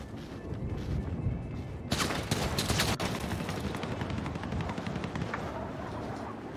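Rapid gunfire in GTA 5 Online rattles loud and dense, with a sharp burst of shots near the two-second mark followed by continuous shooting and crashing noise.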